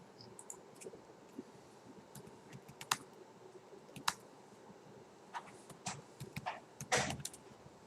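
Someone types on a computer keyboard while composing an email, making soft, irregular key clicks with a few louder taps, faint and close against quiet room noise.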